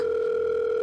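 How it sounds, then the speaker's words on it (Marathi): A telephone line tone sounds as a steady, even electronic hum. It holds unbroken at the same level the whole time, alone and clear. "कंपनीचा फोन आहे."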